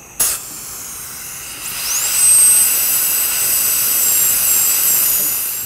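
Dental suction running during a root canal procedure: a sharp click, then a loud, steady rushing hiss with a thin high whine that rises and holds, close and continuous to the end.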